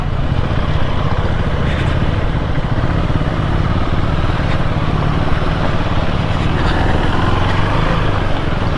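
Motorcycles riding along a road on a morning ride to a Shiva temple near Vikarabad, a steady loud engine drone mixed with heavy wind rush, no voices.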